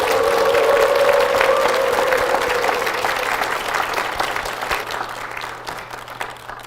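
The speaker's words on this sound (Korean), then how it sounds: "다시 한번 교회를 위해서 큰 박수 부탁드리겠습니다." A church congregation at Inae Church bursts into loud, sustained applause, thick clapping that swells at first and then gradually thins and fades over several seconds, with a little crowd noise mixed in.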